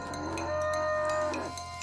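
A cow moos in the video game West of Loathing, a long, drawn-out low bellow with a rising and falling tone over a quiet game soundscape, clear and close, with no talking.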